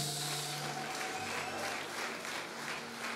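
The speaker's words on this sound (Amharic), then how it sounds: "አጨብጭቡለት" A church congregation applauds together during a sermon, a dense sustained clapping that fills the space evenly from start to end, loud and without speech over it.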